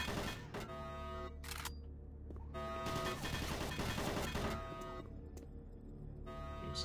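Automated turret guns firing in Doom 3, a dense run of sharp gunfire bursts and impacts over a constant game ambience and music bed, close and fairly loud throughout.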